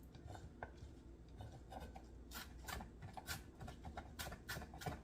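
A knife finely dices food for corned beef hash burgers on a cutting board, making a quiet, fairly close series of uneven rasping scrapes and sharper chopping taps that grow more frequent toward the end.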